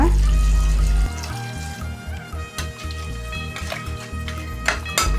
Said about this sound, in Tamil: முக்கால் கப்பு போல் தண்ணி ஊற்றிக்கோங்க